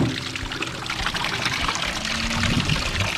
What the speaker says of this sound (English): Let that water run on that valve a little bit.